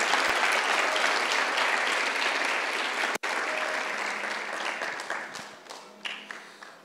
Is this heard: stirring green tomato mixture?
no